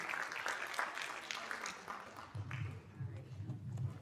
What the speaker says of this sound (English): Listen, Mr. Garrett and Mr. White Knight, let's give our teachers a round of applause.